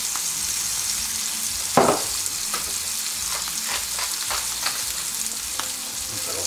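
A piece of beef frying in a pan over high heat, with a steady loud sizzle throughout. A few clinks and stirring scrapes from cooking utensils sound over it.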